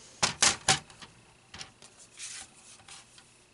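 Paper being trimmed for a post-it note holder with a bulldog clip, heard as a few sharp, close cutting snaps in quick succession, followed by quieter scattered clicks and rustles.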